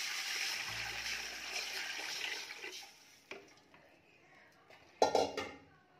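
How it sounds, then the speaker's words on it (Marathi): Water pours into a hot pot of oil and spices for chicken biryani, a rushing hiss that fades, followed by a few clinks and a sharp clatter of the pot. "यामध्ये पाणी घालायचं आहे. तर पाणी जास्तच घालायचं आहे"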